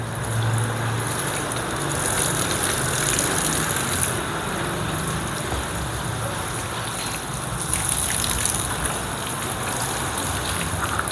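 Water sprays steadily onto a motorcycle body to rinse off caked dust, a continuous hissing wash that stays close and fairly loud without pause.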